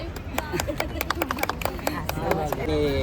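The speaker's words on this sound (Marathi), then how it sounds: "टाळ्या." A small group of people clap in quick, uneven bursts at a family car celebration, fading into a short swell near the end with voices mixed in.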